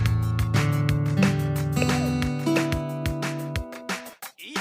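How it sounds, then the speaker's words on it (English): Plucked guitar-like notes played through Nintendo Labo's Toy-Con Garage on a Switch, a string of six pitched tones sounding one after another in a loose rhythm, clear and fairly loud with no talking over them. "that sounds like a guitar"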